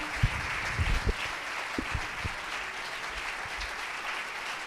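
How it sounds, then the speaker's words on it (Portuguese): Church congregation clapping together at a worship service, a continuous, fairly quiet wash of applause with a few sharper nearby claps and thumps, no voices. "Aplauda ao Senhor até ele chegar aqui."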